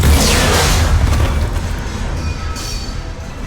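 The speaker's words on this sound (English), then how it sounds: "Bomb! Get back!" A bomb detonates in the Mass Effect 3 video game, a heavy deep boom with a rumbling roar that slowly fades over a few seconds, no voices.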